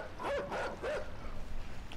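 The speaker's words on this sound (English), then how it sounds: "There's a dog, there's a dog!" A dog barks in the horror puzzle game INSIDE, three short yelping barks close together, then a low rumbling game ambience.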